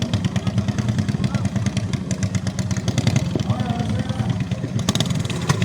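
A motorcycle engine sputters and misfires as it tries to start and run, with uneven popping and a rough, loud idle throughout, while people talk and shout excitedly over it.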